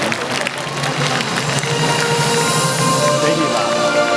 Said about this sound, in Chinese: 对于这样子的奇景，我们给他们一个热烈的掌声，太美了。